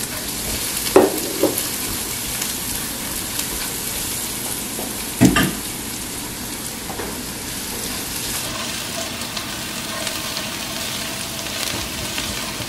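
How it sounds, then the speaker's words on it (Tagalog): Garlic sizzles in hot cooking oil in a pan, a steady crackling fry throughout with a few louder clinks and stirring bumps early on, no talking. "Antayin muna nating uminit yung mantika. Natin tong ilagay yung garlic"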